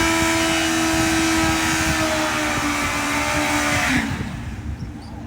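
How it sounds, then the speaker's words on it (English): Suzuki motorcycle doing a burnout on stock exhaust pipes, engine held at a steady high rev with a tire-squeal hiss for about four seconds before dropping off. "Let's hear a stock burnout."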